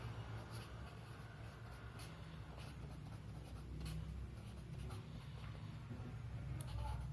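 A teacher writes during a physics lesson on electric charge and current. Faint, steady scratching strokes sit under a continuous low background hum.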